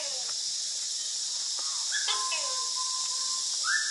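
Exotic birds in the Australian section of Khao Kheow Open Zoo give short chirps and whistled calls over a constant high insect drone, the calls fairly near and scattered.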